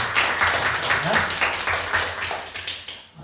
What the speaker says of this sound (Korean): 다 같이 박수로 환영하고 감사하겠습니다